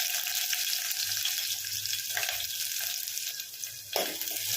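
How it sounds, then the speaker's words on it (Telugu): Chopped onions fry in hot oil with cumin seeds in a pan for a village-style bitter gourd stew, a close, continuous hiss and sizzle with faint stirring and a brief clatter near the end. "ఉల్లిపాయలను అయితే ఫ్రై చేసుకోండి ఇప్పుడు 1 2 నిమిషాలు"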